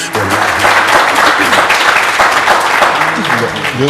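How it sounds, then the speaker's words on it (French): A studio audience on a French-language television talk show breaks into loud, dense applause that holds steady, with some speech and background sound mixed in. "on applaudit"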